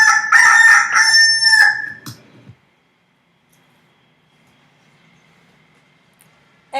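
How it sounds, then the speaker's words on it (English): Rooster crowing once, a loud close cock-a-doodle-doo lasting about two seconds, followed by near silence. "it's the rooster."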